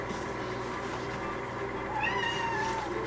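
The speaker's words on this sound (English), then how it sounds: "Oh, that's one of my kitty cats" A pet cat meows indoors, a couple of short rising-falling calls near the end over a steady background hum, fairly close but not loud.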